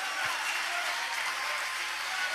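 Congregation applause at a Brazilian church service, a steady wash of clapping from a crowd that holds evenly throughout.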